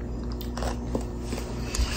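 Someone bites and chews a crunchy fruit full of sweet seeds near a Costa Rica waterfall, with a few soft, close crunches and squishy chewing over faint background noise.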